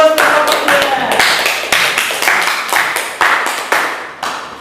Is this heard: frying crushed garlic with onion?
no